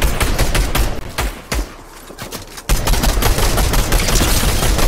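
Gunfire in the video game Fortnite during a zone wars match: rapid bursts of shots crackling in clusters, loud and dense, with a brief lull in the middle before the firing resumes.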